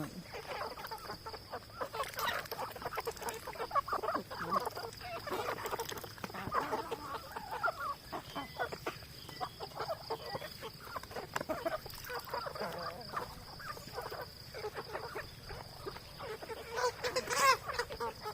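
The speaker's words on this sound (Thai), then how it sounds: "ให้อาหารเป็ด อาหารไก่ท่ามกลางสายฝนอีกแล้ววันนี้" Chickens cluck and squawk busily with occasional duck calls during feeding, over a constant patter of rain and a steady high insect-like whine.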